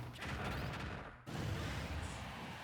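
Chaotic burst of explosions and crashing effects in a Super Smash Bros. Ultimate CPU match, dense and loud throughout with a brief drop near the middle, layered over busy game audio.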